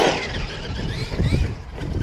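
A Losi LMT 2.0 1/8-scale RC monster truck pulls a wheelie in reverse, its electric motor whining loudly and steadily close by, with rising and falling high-pitched squeals and rough tire rumble throughout.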